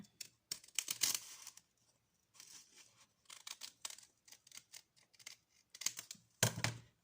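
Scissors cutting a rounded shape into a paper bag: a series of crisp, close snips and rustling paper crunches in irregular bursts with short pauses, fairly quiet, no voices.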